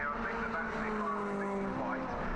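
MG Trophy Championship race cars lapping Brands Hatch in 2019, their engines droning and shifting pitch steadily for a couple of seconds beneath a commentator's continuous voice.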